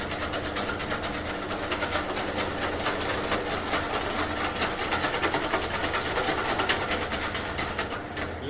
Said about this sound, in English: You want to whisk it really well so it gets a light colour.